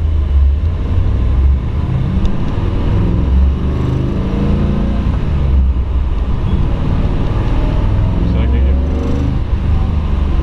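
A 1955 Chevrolet Bel Air two-door hardtop resto-mod with a six-speed and Ford 9-inch rear end drives along, its engine a loud continuous low rumble heard from inside the car.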